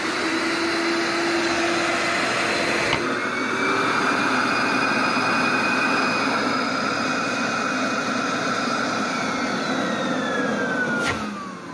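Dust collector running with three motors on, a loud continuous whining roar with steady airflow rush and faint shifting tonal whines, unbroken for the whole stretch apart from two sharp clicks.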